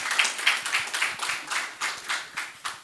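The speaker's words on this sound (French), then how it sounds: "Sous vos applaudissements," Scattered audience clapping at a panel debate on teaching AI in Africa, a sparse, uneven patter of individual claps, fairly close and clear, with no voices.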